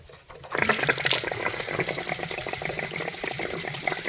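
Water gushes steadily out of an Atwood RV water heater tank as the drain plug comes out, a loud continuous splashing rush that starts abruptly and keeps flowing.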